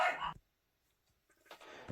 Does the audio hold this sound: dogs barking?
yes